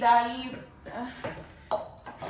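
Clay cooking pots are picked up and set against each other, giving several short hollow knocks and clinks spaced out over a couple of seconds, with a brief voice-like tone at the start.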